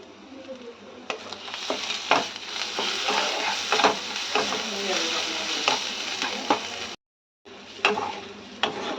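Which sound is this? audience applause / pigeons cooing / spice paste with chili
spice paste with chili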